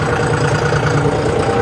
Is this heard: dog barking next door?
no